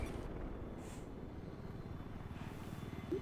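Helicopter overhead during a video game battle, a low continuous rotor thrum at moderate distance holding steady throughout the short stretch.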